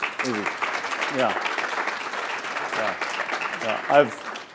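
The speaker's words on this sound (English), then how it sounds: "I just want to give a round of applause to Professor Mankad for organizing this." Steady applause from an audience fills the room, with voices talking over the clapping.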